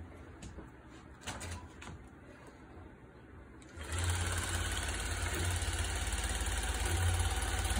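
A longarm quilting machine stitching down the edge of a loaded quilt: quiet handling at first, then a steady, fast mechanical hum with rapid stitching rhythm starting partway through and running continuously to the end.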